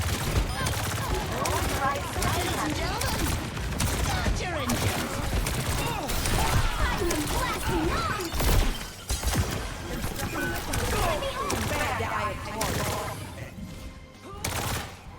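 Rocket fire in a fast Overwatch 2 match playing Juno, a dense, chaotic barrage of rapid shots and bursts that continues almost without pause, with a player talking over it.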